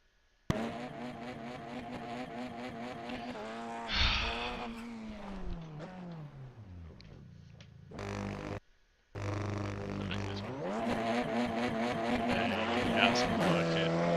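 A TCR touring race car at Donington Park roars and revs through burnouts, the engine note rising and falling with a brief cut-out before surging back loud and close, over a continuous mechanical drone.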